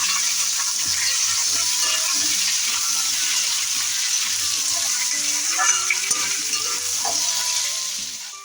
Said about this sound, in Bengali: আর এদিকে আলু ভাজছি, মাছটা রান্না করবো।